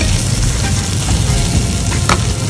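Fish fillet sizzling loudly in a hot pan right after being flipped, crackling and spitting continuously up close, with a few sharper pops near the end.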